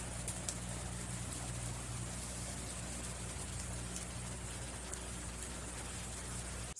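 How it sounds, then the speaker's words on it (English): Steady, faint hiss of rain falling on a rainy day, an even wash of sound with no talking. "today it's a rainy day"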